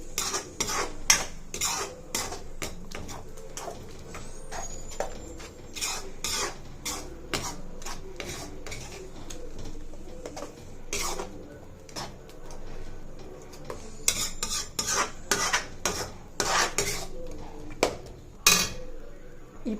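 Ground coconut being stirred into fried onions in a pan for tomato kurma, dominated by repeated sharp spatula clicks and scrapes against the metal pan over a faint sizzle, close up with no talking.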